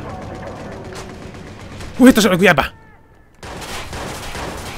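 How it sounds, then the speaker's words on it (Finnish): A burst of rapid gunfire from a shootout in Watch Dogs crackles for about half a second amid game sounds, followed by a short hush, with someone talking just before it. "There's a big shootout going on."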